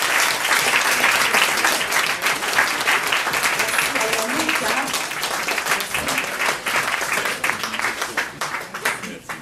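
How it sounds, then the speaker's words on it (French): An audience applauds after a poetry performance at an International Women's Day event, dense sustained clapping that fills the room and slowly thins toward the end, with some speech mixed in. "Daniel Gounet, applaudissez-le encore une fois s'il vous plaît"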